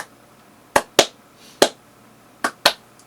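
Five sharp, isolated handclaps ring out alone in a near-silent room, spaced unevenly in a pair, a single, then another pair, each crisp and close with a quick decay.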